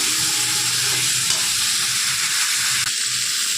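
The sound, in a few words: vegetables with spices frying in oil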